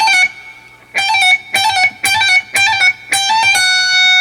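Distorted electric guitar lead lick in a rock style, picked notes with hammer-ons and pull-offs high on the neck, a quick run of about eight crisp articulated notes, loud and alone.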